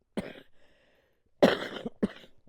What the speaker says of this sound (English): So, as you can see, when I try to talk, I cough.